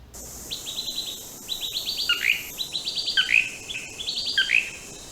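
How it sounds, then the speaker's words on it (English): A blue-crowned manakin gives its display calls in a Central American rainforest: bursts of rapid, high chirps building into short hiccup-like notes, repeated about four times over a faint background of insects. "another Manakin, the blue-crowned. It's displaying, believe it or not, that hiccup."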